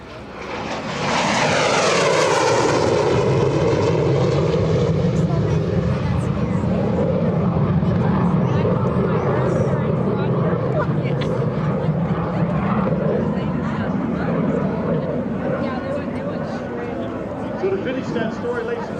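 A MiG-17 jet fighter climbing past from left to right at the EAA AirVenture 2025 airshow, a loud sustained engine roar that swells and then holds steady while an announcer talks over it.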